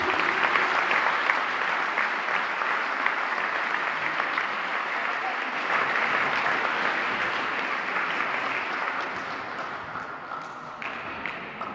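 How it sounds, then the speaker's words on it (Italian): A crowd gathered for a volleyball club's youth and first-team presentation gives a long, continuous round of applause, dense and even throughout, easing slightly near the end. "Quindi rifacciamoci un altro applauso."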